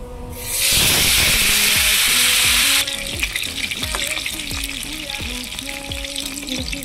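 Mustard seeds and tomato hit hot oil with a sudden loud hiss that roars for about two seconds, then drops to a steady, quieter sizzle with soft, regular pops and knocks.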